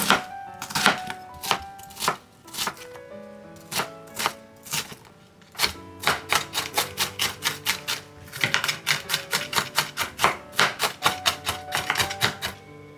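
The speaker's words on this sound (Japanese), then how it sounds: "玉ねぎはみじん切りにしましょう。" An onion being finely minced with a kitchen knife on a cutting board for a tomato marinade: close, crisp rapid knife taps in quick bursts with short pauses between, no talking.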